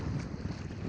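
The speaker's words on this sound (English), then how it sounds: "Hey Roger, thanks for coming out on a windy day like today." A short burst of wind buffets the microphone beside the Missouri River, with low rumbling gusts and a steady blustery roar.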